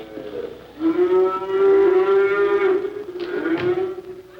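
A cow moos loudly and at length, a drawn-out bellow that swells and wavers near its end, heard close with no voices.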